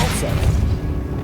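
Depulso force-push spell in the wizarding video game Hogwarts Legacy: a short, loud, deep booming thud with heavy low rumble and a voice partly over it.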